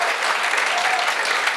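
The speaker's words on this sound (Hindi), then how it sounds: "तालियां आपकी अभी भी कमजोर है" Audience applause at a Hindi comic poetry gathering, a dense steady patter of many hands clapping with no voices over it.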